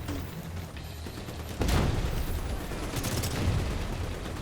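Enemy gunfire from NPC soldiers rattles in Division 2 on Roosevelt Island, heard as fairly faint bursts that swell sharply around the middle and again near the end, with no talk over it.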